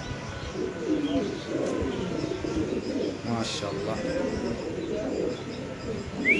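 Pigeons at a pigeon farm coo softly and chirp now and then nearby, while a person talks over them throughout.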